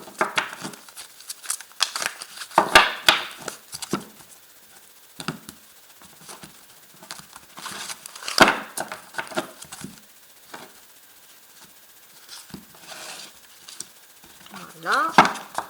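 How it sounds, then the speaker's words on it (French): Tarot cards being laid out on a table, scattered soft slaps, shuffles and light taps coming in irregular bursts, close by, with some quiet speech in between. "Alors, plaçons les cartes."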